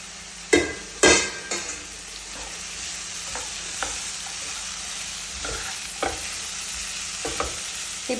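Finely chopped chow chow (chayote) tipped into a hot pan for a Tamil-style poriyal, giving a few sharp clatters of spoon against pan near the start, then a steady low sizzle with occasional stirring knocks.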